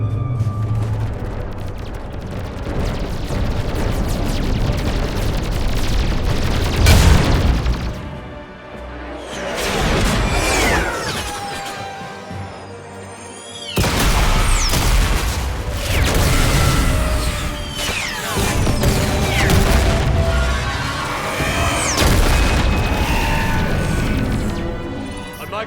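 A dense, roaring battle from the Mass Effect 3 attack on Cronos and the battle of Earth: relentless weapons fire, heavy explosions and crashing impacts, loud and continuous with brief dips before surging again.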